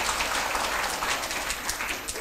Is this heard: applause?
yes